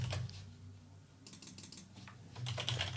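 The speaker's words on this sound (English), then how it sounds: "every button, you can just start typing in a label" Rapid typing on a computer keyboard, close clusters of light key clicks in quick bursts with a short pause in the middle, over a faint room hum.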